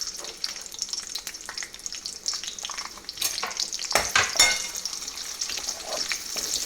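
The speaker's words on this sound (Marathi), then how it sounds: "आणि थोडासा फोडणीपुरता कांदा" Onion sizzling steadily in hot oil with a bay leaf for a tempering, a close, continuous crackle with occasional stirring scrapes and louder spits toward the end.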